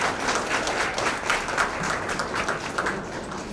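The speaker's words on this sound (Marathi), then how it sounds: "त्याच्यासाठी थोड्या जास्त टाळ्या अपेक्षित आहेत" An audience claps for an award recipient at a foundation day celebration, a dense, steady burst of applause filling the room at close range with no one speaking over it.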